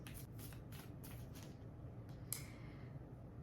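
Tarot cards being shuffled by hand, a steady run of soft riffling bursts with a sharper snap near the end, close and quiet over low background hum.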